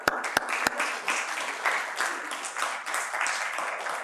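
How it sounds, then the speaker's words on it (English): An audience claps together at a director's session, a steady, moderately quiet patter with a few sharper claps near the start. "A round of applause for them again."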